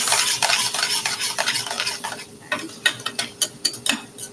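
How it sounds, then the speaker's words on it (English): A spoon stirs Italian sausage and chili flakes frying in a pan that is shaken back and forth, giving a constant sizzle and quick rhythmic scraping knocks that grow sharper toward the end, close and loud. "Now I like to move my pan back and forth while I move my spoon in circular."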